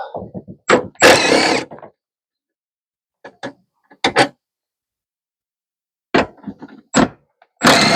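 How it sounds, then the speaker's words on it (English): A ratchet works 10 mm bolts out of a 2012 Prius brake actuator, heard as short, close bursts of clicking and metallic clatter separated by quiet pauses. "now we just need to get the bolts out of this. These are all 10 millimeters"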